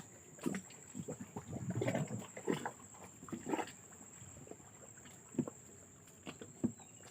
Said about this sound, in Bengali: আমাদের নৌকা এখন নামানো হচ্ছে